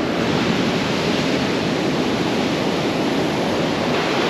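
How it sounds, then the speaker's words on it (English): Waves break and wash on an ocean surf beach at Lake Bunga, a constant close roar of surf mixed with some wind noise on the microphone. "Like you see a wave there, looks like about to break"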